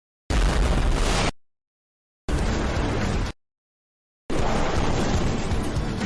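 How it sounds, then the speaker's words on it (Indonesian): Three loud explosions boom one after another, each a short roaring blast cut off abruptly, separated by brief silences. "Gagal memancing, malah mulai meledakkan ikan."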